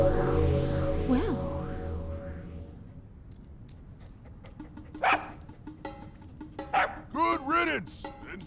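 A dog barks several times in quick bursts in the video game Zelda Breath of the Wild, fairly close and loud after a stretch of low game ambience and music, with sharp yips clustered near the end.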